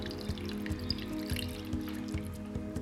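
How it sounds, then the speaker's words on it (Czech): Water, about a litre, poured into a pot of beef for Vietnamese pho bo, giving a steady close trickling and splashing with small repeated drips and knocks throughout. "Tak přidám zhruba 1 litr vody."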